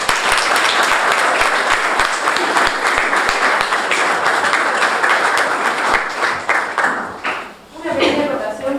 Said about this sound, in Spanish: Aplausos para...